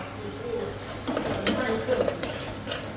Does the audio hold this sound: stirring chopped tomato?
yes